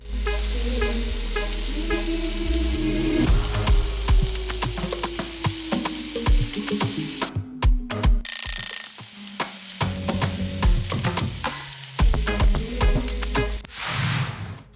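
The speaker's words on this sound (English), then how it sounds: "Now I'm gonna go ahead and fry my salmon just for 3 minutes on both sides." Salmon fries in a pot with steady sizzling and crackle, punctuated by clinks and brief handling knocks, close by and with no voices.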